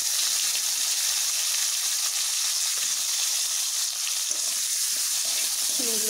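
Flat beans frying in hot oil in a pan as they are stirred, a loud, steady broadband sizzle with soft scraping near the end.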